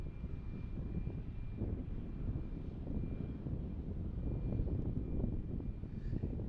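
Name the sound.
United airliners taxiing out at Tampa airport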